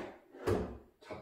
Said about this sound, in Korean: 이게 서랍을 그냥 열면 이렇게 당겨져요